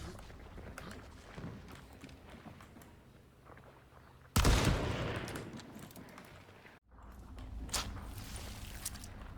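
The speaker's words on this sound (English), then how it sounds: "Just know how clearly you can hear all these guys' footsteps running around him." Players' footsteps running in the Hunt: Showdown video game, a busy shuffle of steps under a sudden loud burst that cuts out abruptly, then resumes at moderate level.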